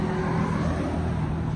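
A motorcycle engine drones past steadily on a busy road with traffic and a traffic light ahead, loud and close, with no talking over it.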